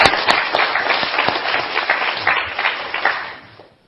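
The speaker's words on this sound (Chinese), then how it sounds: "我们下面呢就热烈掌声来欢迎沈志华先生为我们进行今天的演讲" A lecture audience applauds to welcome the speaker to a talk on Mao, Khrushchev and Sino-Soviet relations: dense, steady clapping from a crowd that holds for several seconds, then fades away near the end.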